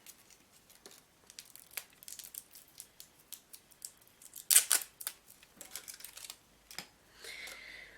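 Packaging of a Sumita eye pencil being opened: a run of small close crinkles, taps and tearing sounds, with a sharper rustling burst midway and a soft crinkle near the end, no talking.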